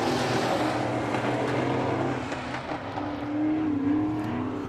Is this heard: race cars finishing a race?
yes